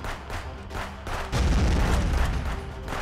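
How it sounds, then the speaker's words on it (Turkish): A bomb explodes during a gunfight in the video game Contraband Police: scattered gunshots are followed by a sudden loud blast about halfway through, and its rumble sustains to the end. "Allah, ağzıma attı bombayı."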